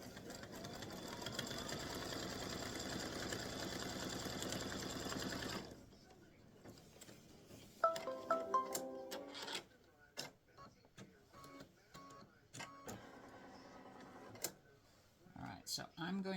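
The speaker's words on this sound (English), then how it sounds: "the next color stop is going to stitch a line for the placement of your" An embroidery sewing machine stitches a placement line for the side panel of an in-the-hoop mug rug, whirring steadily and rapidly for several seconds. It then falls quiet, followed by intermittent clicks and handling noises with someone talking.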